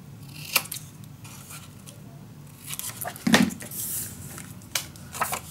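Scissors snipping through paper for a mini album page, several close, crisp cuts spaced irregularly, with light rustling of paper in between.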